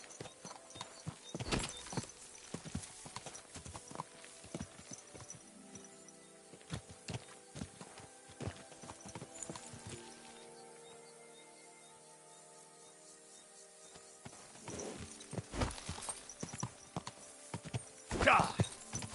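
Horse hooves clip-clop in Kingdom Come Deliverance 2 in irregular bursts of close hoofbeats, with a whinny and quieter stretches between. A voice talks over parts of it.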